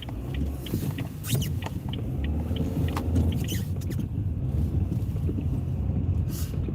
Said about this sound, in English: I mean, that is traffic.